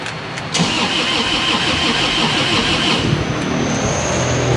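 A supercharged Isuzu Panther engine cranks briefly and catches, then settles into a steady, loud idle close by, with no voices.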